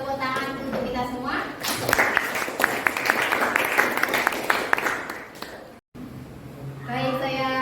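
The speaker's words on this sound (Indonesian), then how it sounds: "Tepuk tangan untuk kita semua." A school class claps together for several seconds after a group presentation, loud and close, with a teacher's voice before and after the applause.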